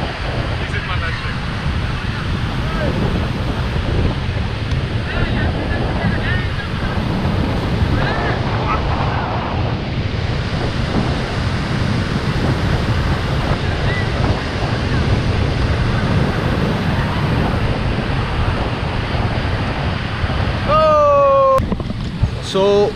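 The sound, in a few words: waves and wind at Baga beach, Goa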